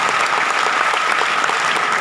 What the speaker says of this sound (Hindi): बजा सकते हैं? और ताली बजाएंगे तो मुझे, और कई लोग ताली कैसे बजाते हैं